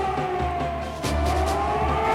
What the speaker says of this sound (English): Now the sirens are sounding for the first time.